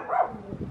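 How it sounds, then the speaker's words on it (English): A single short, fairly faint bark from a neighbour's puppy, heard briefly at a moderate distance. "Yeah, puppy."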